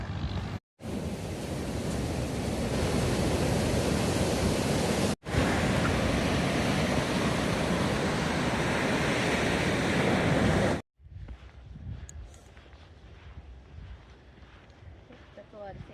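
Ocean surf breaks on a sandy beach below tall dunes on the Oregon coast, a loud continuous roar with wind buffeting the microphone, then cutting to a quieter stretch of distant waves.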